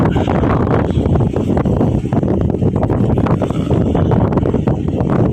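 Strong wind roars steadily across the microphone during a tanker's docking, a loud, constant buffeting rumble with gusty surges throughout and no voices.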